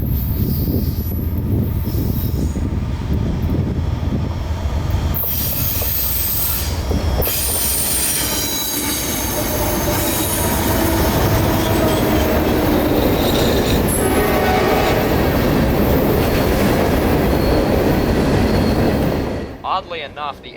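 A freight train with empty phosphate cars rumbles past steadily for a long stretch in central Florida, loud and close, with screeching wheel squeals and rolling clatter before it fades near the end.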